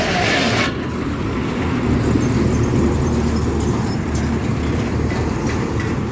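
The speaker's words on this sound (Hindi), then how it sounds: "देखो भाई ये चढ़ाई है और यहाँ पे ट्रैफिक बहुत हो रही है।" Heavy road traffic on an uphill road makes a loud, continuous roar and rumble of vehicle engines and tyres, dense and unbroken throughout, with no talk.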